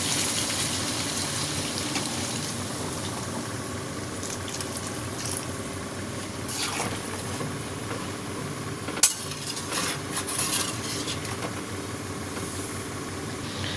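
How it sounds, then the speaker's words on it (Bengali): Hot water poured into a pan of fried drumstick and potato for a fish-head gravy, a steady low pour and simmer with a few faint clinks and one sharp knock midway. "আমি ঝোলের জন্য ব্যবহার করছি গরম পানি।"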